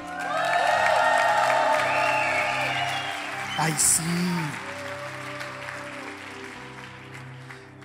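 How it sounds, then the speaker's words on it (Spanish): A church congregation bursts into loud cheering, whoops and applause during a service, a dense roar that slowly thins out, with a shouted voice and instrumental tones beneath it. "vamos a dar un grito de júbilo y un aplauso fuerte para nuestros hermanos que nos escuchan en la radio"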